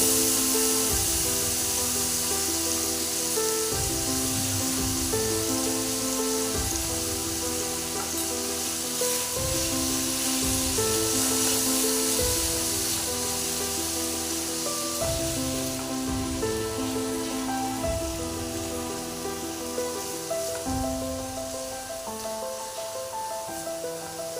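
Prawns frying in a pan with taro leaves, a steady close sizzle and hiss running throughout, with background music playing over it.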